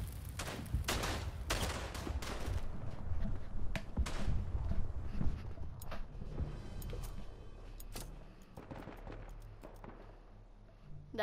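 Video game battle gunfire, a string of sharp, loud shots and bursts at uneven intervals, dense early then thinning out into scattered cracks over a low background, with no talk.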